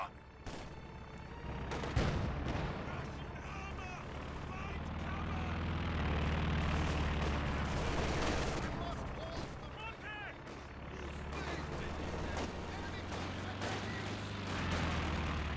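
Company of Heroes 2 battle din with continuous gunfire, aircraft and engine rumble and grenade blasts, including a frag grenade striking an MG42 position, dense and loud throughout beneath a commentator's voice.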